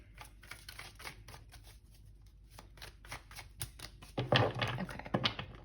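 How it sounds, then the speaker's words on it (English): A deck of playing cards shuffled during a tarot-style pick-a-card reading, giving a run of quick riffling flicks close up that grow louder and denser toward the end, with no talking. "I'll shuffle 2 more times."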